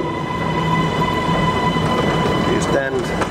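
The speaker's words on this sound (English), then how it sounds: "And here comes our train." A Kuala Lumpur MRT metro train pulls into the station with a loud, steady rumble and a short wheel squeal near the end, while a person talks over it.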